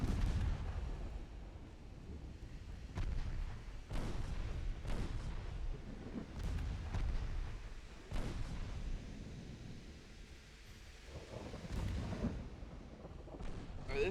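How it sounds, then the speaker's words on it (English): Torpedo detonations in the naval strategy game Ultimate Admiral Dreadnoughts: a series of deep, rumbling booms at irregular intervals, each swelling and fading into a continuous low roar of distant explosions and gunfire. "Now there's torpedo detonation."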